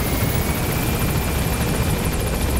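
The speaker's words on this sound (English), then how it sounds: "Get out of the helicopter." A helicopter in Metal Gear Solid V whirs with a loud, constant rotor and engine drone, close and unbroken, with no talking over it.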